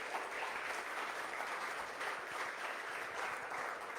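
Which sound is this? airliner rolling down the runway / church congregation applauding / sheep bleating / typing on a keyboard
church congregation applauding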